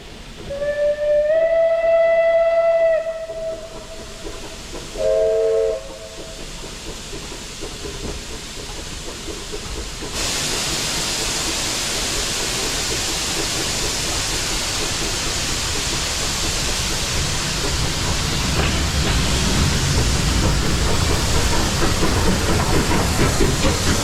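A steam locomotive on the Watercress Line sounds two whistles in the opening seconds, then a loud steady hiss of steam and rolling noise continues close by.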